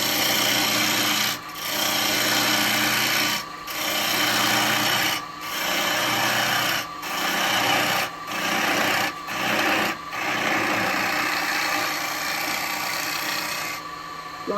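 A wood lathe spins an ash bowl while a traditional turning tool cuts its foot. The abrasive scraping hiss is steady and loud, broken by brief gaps as the tool lifts off, with a constant motor hum underneath.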